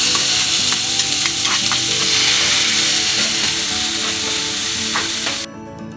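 Chopped onion sizzling and frying steadily in hot oil for a Sri Lankan masala chapathi and onion-tomato thokku, with a few soft stirring clinks, loud and close, the sizzle cutting off near the end.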